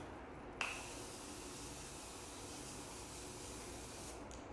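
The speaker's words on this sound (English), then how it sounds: "Let me spray my face." Morphe setting spray misted onto a face, a steady airy hiss that starts abruptly after a short pause and holds evenly for about four seconds, close and fairly quiet.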